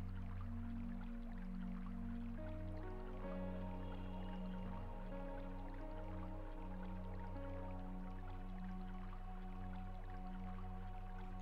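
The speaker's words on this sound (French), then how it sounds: "les chuchotements, les bourdonnements de l'eau qui cascade" Water trickling and dripping in a stream under a canopy of greenery, a faint, steady babble with soft drips, heard alone without voices.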